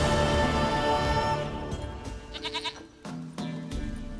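A goat in The Witcher 3 bleats in a couple of short, wavering calls near the end, following a fading background hum of game ambience and music.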